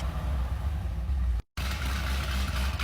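A Chevrolet Corvette V8 rumbles steadily at close range, a deep low idle with engine roar filling the clip, broken by a brief silent cut midway before the same running sound resumes.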